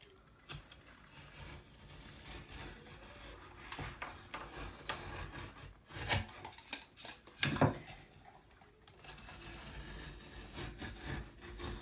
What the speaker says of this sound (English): Get your knife and you score it.